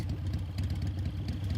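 A vehicle engine idling in Metal Gear Solid 3, a steady low rumbling drone with a faint clattering texture, continuous and unbroken.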